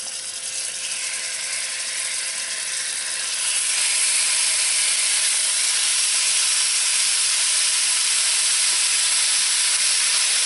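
Ground meat fries in a hot pan over high heat, a loud continuous sizzle and hiss that swells after a few seconds and stays strong, close by with no talking.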